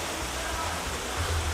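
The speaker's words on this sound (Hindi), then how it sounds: "ये झरना कल कल करता हुआ बह रहा है" A waterfall at a temple cave flows with a steady, broadband wash of rushing water, continuous and moderately close, with no voices over it.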